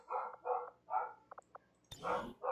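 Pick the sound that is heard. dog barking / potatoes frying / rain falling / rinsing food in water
dog barking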